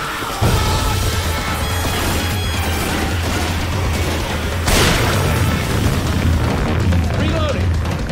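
A pipe bomb explodes in the zombie shooter Left 4 Dead 2, a sudden broadband blast bursting out midway through a dense, loud wash of in-game chaos and low rumbling.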